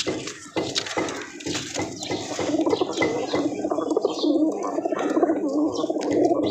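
Pigeons coo softly and repeatedly close by amid flock chatter and wing rustling, with faint people talking in the background.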